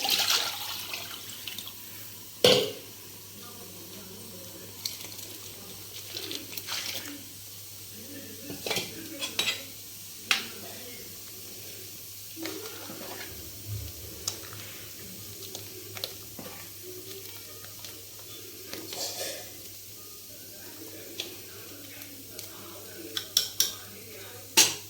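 Pots, utensils and running water clatter and splash in a kitchen as ground masala of ginger, garlic, fennel and coconut is rinsed out for a chicken curry, with repeated sharp clinks over a steady wash of water.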